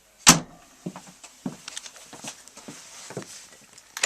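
A ball-bearing kitchen drawer in a 2013 Lance 1172 truck camper slides open with one sharp knock, followed by a series of light clicks and rattles as it rolls out, close and alone.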